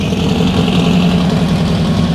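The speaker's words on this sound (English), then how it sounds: "And it sounds mean. Got a big engine in there." A vintage early low-light Volkswagen Karmann Ghia with a big engine idles loudly and steadily close by, a deep continuous rumble with no pauses.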